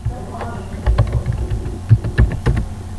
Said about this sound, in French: Donc maintenant, je tape version